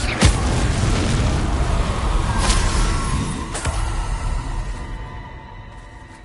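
A fiery Incendio spell explosion in Hogwarts Legacy, a sharp, loud burst followed by a roaring, crackling rush and a couple of further sharp cracks as the blast dies away.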